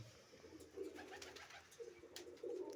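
Pigeons give soft, repeated low coos in a quiet setting, a few gentle calls spaced across the moment with faint background noise.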